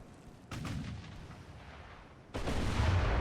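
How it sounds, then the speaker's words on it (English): Two heavy booms from 8-inch naval guns in the naval strategy game Ultimate Admiral: Dreadnoughts, the first about half a second in and a louder one near the end, each followed by a rumbling roar, with no talking. "There go the 8-inch guns."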